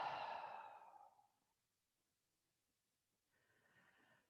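A big exhale during chair yoga, seated with feet flat on the floor: a long, soft breath out that fades over about a second and a half, followed by silence and then a faint, breathy intake.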